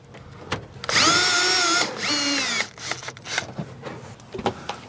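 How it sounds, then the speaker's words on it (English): Power drill driving screws into an RV fender skirt, two close whining bursts of rising and falling motor pitch, followed by softer clicks and handling noises. "we're just going to go around here and put the rest of these screws in that fender skirt"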